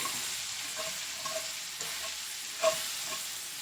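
Smothered pork loin chops sauteing in oil in a pan, a soft continuous sizzle with a few faint pops and one brief stirring clatter, no talk.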